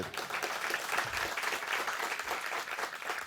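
An audience at a public hearing on Edwards syndrome awareness claps in a dense, steady round of applause with an even wash of many hands.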